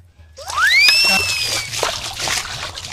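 Rainwater is bailed from a pit and splashes down in a quick slosh and spatter, followed by softer trickling and dribbling, close and moderately loud with no talking.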